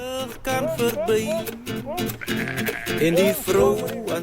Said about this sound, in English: Fat-tailed sheep, bizarre-looking sheep who don't behave like sheep at all.